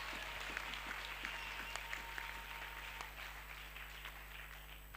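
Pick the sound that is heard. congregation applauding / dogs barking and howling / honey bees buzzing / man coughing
congregation applauding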